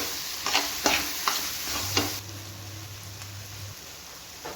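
Oil sizzles softly in a kadai as softened tomato masala fries, while a spoon scrapes and stirs in a few sharp strokes, then the frying continues quietly.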